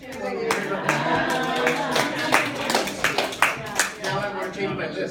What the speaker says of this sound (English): So an applause for the winner.